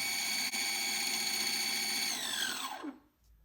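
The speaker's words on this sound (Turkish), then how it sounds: "Motorumuz 896 devir dönüyor arkadaşlar." A small electric motor runs at high RPM as a steady whine with a dense stack of harmonics, then winds down in a falling glide to near silence, heard alone in a generator test setup.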